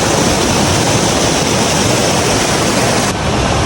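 Waterfall roaring steadily and loudly up close, a dense continuous rush of falling water with no voices.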